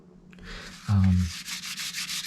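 A short, scratchy rubbing of stiff gilded tarot cards against each other, close up, with a brief low thump partway through.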